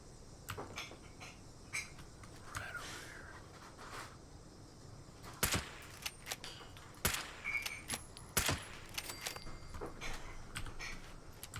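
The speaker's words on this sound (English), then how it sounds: "seems like they were still shooting at something" Sporadic gunfire from the post-apocalyptic game Fallout 76, scattered sharp cracks at moderate distance, with a few louder shots clustered toward the middle and end over a dim ambient background.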